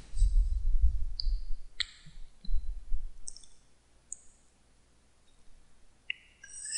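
A computer mouse clicks a few times, faint and sharp, while a website is being set up in software. Low hum and some high chirping tones sit in the background.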